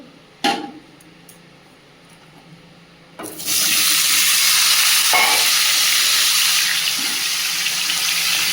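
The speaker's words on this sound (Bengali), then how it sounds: "বেগুনটা কেটে নিয়েছি আর লবণ আর হলুদ দিয়ে নিয়েছি ভেজে নেবো" Sliced eggplant coated with salt and turmeric frying in a pan. A soft early clatter gives way to a loud, steady sizzle that holds to the end, with a few faint knocks on top and no voices.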